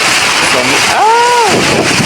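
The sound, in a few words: strong wind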